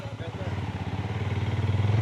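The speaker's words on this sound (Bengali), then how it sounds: "একটা মোটরসাইকেল গেছে" A motorcycle engine drones steadily nearby with a pulsing low rumble that grows slightly louder, while faint background noise continues.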